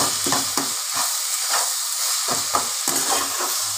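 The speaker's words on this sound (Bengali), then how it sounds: "এইবার ভালো করে নাড়াচাড়া করে তোমার ভর্তাটা করব" Cauliflower mash, sweetened with a little sugar, frying in extra oil while being stirred, a loud steady sizzle punctuated by rhythmic scraping strokes close by.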